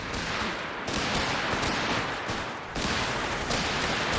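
A machine gun fires in Company of Heroes 3 as dense, sustained bursts of rapid gunfire. Brief dips split it into long loud stretches amid a thick battlefield din, with no talking.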